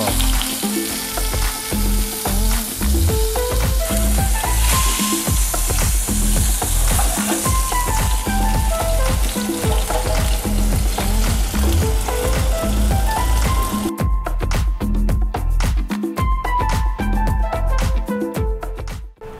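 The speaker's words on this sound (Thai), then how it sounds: "หลังจากที่เราย่างตัวแฮมเบอร์เกอร์กับพวกเบคอนเรียบร้อยแล้วนะครับ" Hamburger patties and bacon sizzle steadily on a grill, a continuous crackling fry that runs the whole way, with loud pitched background music layered over it.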